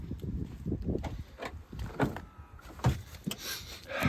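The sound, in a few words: car door being opened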